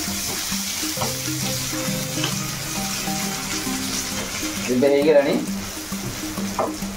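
Green chili and onion sizzle as they fry in a tempering for dal, a continuous crackling hiss with a brief louder burst of spatter partway through, close by and alone.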